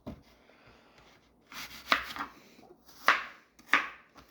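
Freshly picked apples are chopped on a board in close, distinct knife strikes: a soft tap, then three sharper chops, with quiet pauses between them and no talking.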